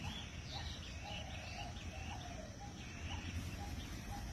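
Soft calls of a wild dove repeat over a steady outdoor background hum, faint and somewhat distant, with no talking.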